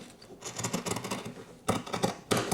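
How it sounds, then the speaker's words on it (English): Fabric of a sewn welt pocket being cut back with scissors, heard as a few close, crisp snipping and rustling bursts with short pauses between cuts, no voices. "Now with my pocket sewn, I'm just going to cut it back."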